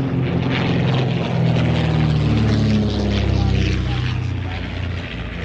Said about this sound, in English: Mark Sharp, meanwhile, rolling out with the Hawk Speed 6